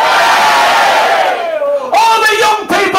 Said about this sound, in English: England gives a cheer!